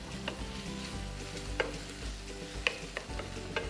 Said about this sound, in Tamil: இதை ஜஸ்ட் அந்த தக்காளி குக் ஆகிற வரைக்கும் நம்ம வதக்குறோம்.